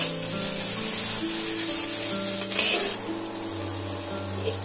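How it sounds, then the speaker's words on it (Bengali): Chopped tomato fries in a hot pan with a steady, loud sizzling hiss that eases slightly toward the end, over a low humming drone. "ভাজা করে নেব টমেটোটা"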